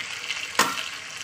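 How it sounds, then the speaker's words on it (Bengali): Carrots and potatoes frying in hot oil in a pan, a steady hiss of sizzling with one sharp louder crackle midway, close and alone. "জাস্ট তেলের উপর ফ্রাই করে নিচ্ছি"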